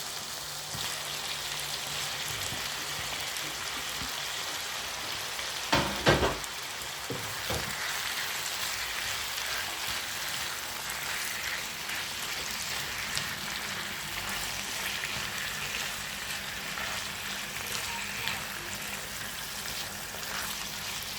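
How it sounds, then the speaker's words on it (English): Chopped meat sizzling in a pot for Nigerian jollof rice, a steady crackling fry that continues evenly throughout, with a short burst of clatter early on from stirring or the pot. "Now I put in my chopped meat."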